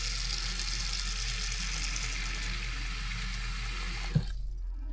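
Water pours steadily into a dry bucket for a roofing ice and water nail hole test, a continuous close splashing rush that stops abruptly with a small knock near the end.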